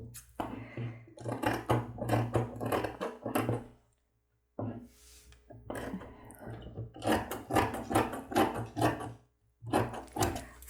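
Scissors cut fabric pieces for a men's lab coat in close, crisp runs of rasping snips, with one short silent break midway.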